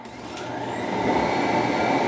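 A Eureka E10s robot vacuum docks at its base, which then starts emptying the bin with a steady motor whine that rises and grows louder over about two seconds, no talking.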